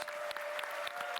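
A crowd of roughly 100 to 150 employees applauds at a Marathon gameplay reveal event, steady dense clapping with scattered sharper claps, loud and sustained throughout.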